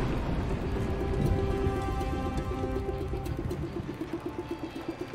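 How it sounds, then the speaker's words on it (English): Rain falls in the video game Dying Light: The Following as a steady, loud broadband hiss, joined near the end by a run of regular rhythmic thumps like footsteps. "It's raining now too, great."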